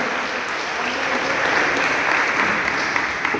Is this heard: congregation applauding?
yes